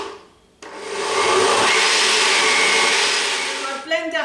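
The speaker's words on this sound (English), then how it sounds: "And I'm going to blend again now." A blender pureeing cumin-roasted beetroot and butternut squash soup with vegetable stock: a loud steady motor whir that starts abruptly and runs for several seconds, close up, then winds down.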